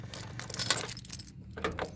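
Keys jangle and clink in a few quick bursts while a small key locks an old Daimler car, close and fairly quiet with short metallic rattles separated by brief pauses.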